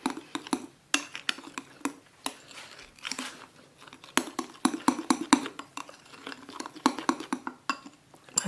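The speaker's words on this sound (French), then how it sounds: "Il faut bien mélanger." Homemade food colouring mixture stirred in a bowl: rapid, irregular clinks and scrapes of a utensil against the container, close and fairly quiet, with no talk.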